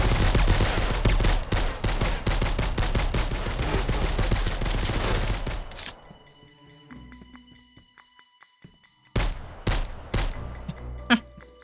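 Video game gunfire, dense rapid automatic shooting for about six seconds, then silence, then a few sharp single bursts near the end.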